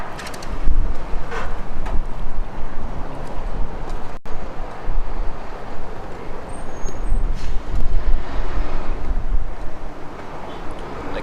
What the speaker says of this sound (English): It's kind of breezy here